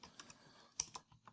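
Light, uneven keystrokes tap on a computer keyboard during touch-typing practice, a handful of quiet close clicks in a short burst with no talking.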